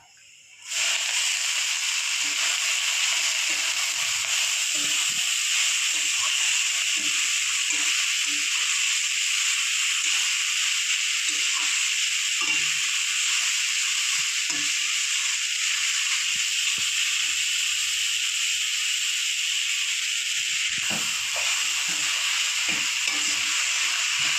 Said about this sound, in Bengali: রসুন আবার লাল লাল হয়ে গেছে, এবার দিয়ে দেবো কেটে রাখা শাক।